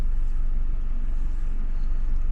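A BMW G20 330i car engine, rated at 320 horsepower, is heard from outside, producing a steady, loud, deep rumble that holds evenly throughout without talking.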